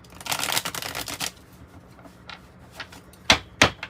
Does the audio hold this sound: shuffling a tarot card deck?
yes